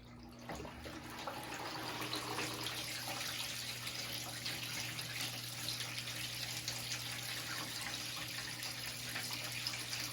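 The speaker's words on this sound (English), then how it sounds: "once it cuts on, then it will start filling up the flood and drain tray" Water from a hydroponic pump pours steadily into a flood and drain tray of an indoor grow setup, a continuous close splashing trickle over a low steady pump hum, no talking.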